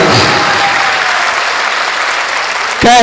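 An auditorium audience claps together in sustained, dense applause at a poetry recital, loud and steady for nearly three seconds before it breaks off abruptly.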